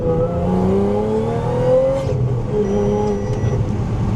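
An Audi car engine revs and pulls hard under acceleration, its pitch climbing steadily through a gear with a dense rumble of road noise.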